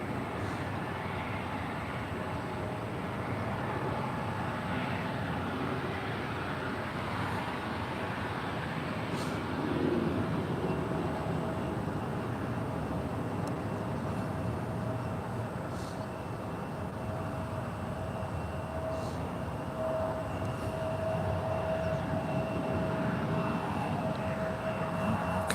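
A Southwest airliner arriving from San Diego at SFO, a 16-year-old aircraft, produces a steady broad engine roar that holds evenly throughout, heard from a distance over a continuous airport background.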